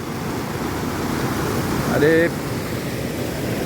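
Waterfall at Le Saut du Brame, a drop of roughly ten metres, roars as a steady broadband rush, loud and close; a voice briefly says a word over it midway.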